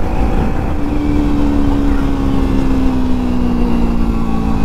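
A motorbike called Jerry runs at full throttle on an open road, its engine a loud, steady drone with a slowly falling pitch, heavy wind rumble over it and no talking.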